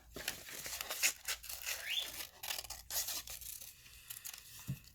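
Scissors snip fish shapes out of paper in irregular crisp cuts and rustling crinkles, close and fairly quiet, with no talking.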